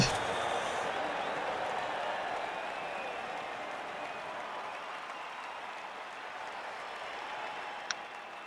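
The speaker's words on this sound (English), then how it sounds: "the crowd goes absolutely wild" A crowd cheers and applauds after a score at a sports game, a sustained, broad roar of clapping and voices that fades slightly over several seconds.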